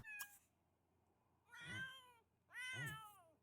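A cat in the Iron Edge video game whines and meows: a short high cry, then two longer drawn-out wavering meows, close and clear against a quiet background.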